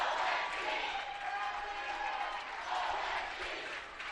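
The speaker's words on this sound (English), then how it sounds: "You hear the crowd, L-E-M-O-N-T." A crowd chants for Lemont at a high school baseball final, a broad, sustained roar of many voices rising and falling, heard from a distance.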